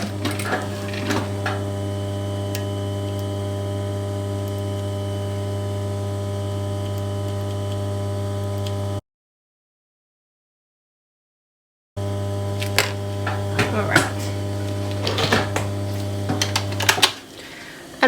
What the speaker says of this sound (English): I'm just going to do 2 rows of stitching just to make sure it's on nice and strong.